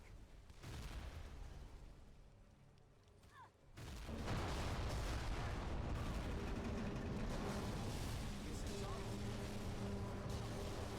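A house collapses in a video game with a long, loud rumbling roar of crashing debris that swells after a brief lull and keeps churning, with voices faintly underneath.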